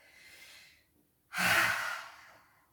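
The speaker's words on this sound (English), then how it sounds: "blow it out through the mouth again. Make an exaggerated exhale." A long, exaggerated exhale blown out through the mouth during a downward dog yoga pose, following a softer breath; one loud breathy rush that fades out, close and alone.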